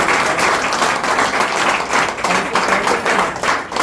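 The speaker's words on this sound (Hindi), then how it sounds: "मैं चाहूंगा एक बार जोरदार तालियां होनी चाहिए।" Loud, steady applause from an audience at a business seminar, dense clapping filling the whole stretch without pause and with no talk over it.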